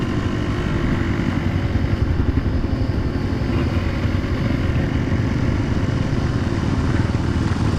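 A heavily loaded motorcycle rides off-road with a loud, steady engine drone that holds close and constant, with a rough rumble and small fluctuations as it labors over the terrain.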